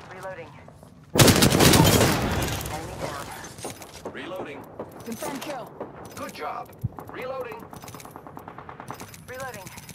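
Heavy automatic gunfire in an Apex Legends match, a loud sustained burst erupting after a quieter opening, then scattered shots, reload clatter and game effects continuing alongside voice chatter.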